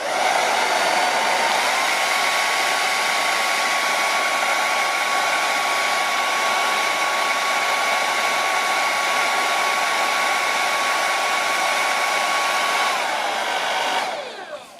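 Hot air blower heating a small mini orc sword blade during a rusting treatment, a steady loud whooshing roar with a constant whine running unbroken for about fourteen seconds before cutting off.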